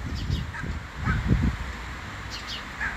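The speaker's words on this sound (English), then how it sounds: "That's the bird making a lot of noise, and I love to listen to the birds." Several harsh, cawing bird calls ring out at a distance over steady outdoor rumble and wind-like noise.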